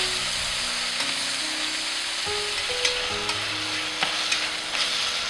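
Mint, cilantro and tomatoes sizzle and fry in a pan while being stirred, a steady close hiss with scattered scrapes and clicks of the spoon, no voices.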